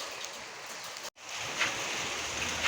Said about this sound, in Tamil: சரியான மழைங்க.